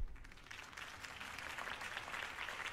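Crowd applause in Batman: The Telltale Series, a continuous wash of clapping that builds slightly and holds steady throughout, moderately distant with no talking over it.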